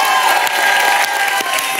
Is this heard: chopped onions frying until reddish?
no